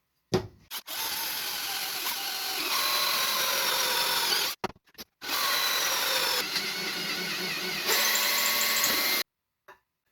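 A power drill whines steadily through a wooden board for a fishing reel in two long runs, with a brief pause between them and a short stop at the end.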